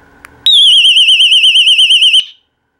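A loud, shrill electronic alarm tone warbles rapidly for about two seconds after a faint click, then cuts off.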